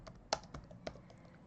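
Typing on a computer keyboard into a search bar: a short burst of separate key taps, one louder than the rest, at close range in a quiet room.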